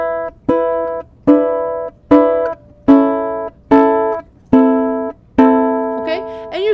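Guitar plays a variation on a song with the open first string ringing, picked in seven evenly spaced notes or chords that sustain and decay between strikes, close and clear.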